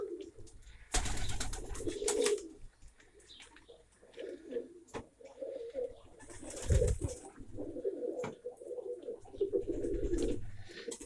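Pigeons coo softly in a low, burbling murmur that keeps going, with scattered clattering and rustling noises over it.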